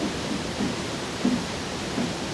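Water rushes steadily through and around a turning water wheel in a Scottish winter river at Killin. The roar is broad and even, with faint low thumps from the wheel.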